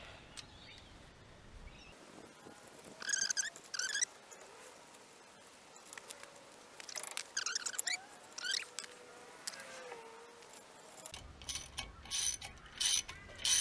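Rusted front wheel hub on a 2008 Toyota Hilux being drawn inward with bolts to force the brake disc off, giving scattered metallic creaks, clicks and ratchety scraping bursts, close and moderately loud, with quieter gaps between.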